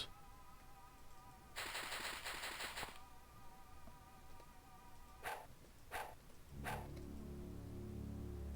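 Gunfire in the X-Com Files video game, in an undersea city: a rapid automatic burst followed by several sharp single shots, fairly quiet beneath a low droning game backdrop, with no talking.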